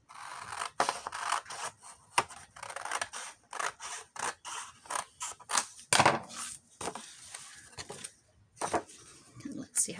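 Scissors make repeated short snips through paper for a junk journal, irregular bursts close to the microphone, with someone talking softly between cuts.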